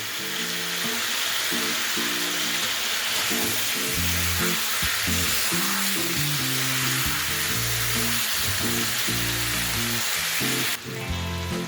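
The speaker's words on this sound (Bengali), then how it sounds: "চিকেনটা ভাজতে ভাজতেই এর মধ্যে আমি 10-12 কোয়া গোটা রসুন অ্যাড করে দিচ্ছি।" Chicken fries in a pan with 10 to 12 whole garlic cloves for a chicken curry, giving a loud, steady sizzle that runs the whole time over a tonal musical bed.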